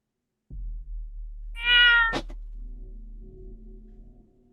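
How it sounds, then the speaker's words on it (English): A cat meows once loudly and close, then lets out a sharp, strained cry of distress, followed by a quiet low hum and faint room noise as the sound dies away. "So first you hear a meow, and then you hear what sounds like a cat crying out of distress"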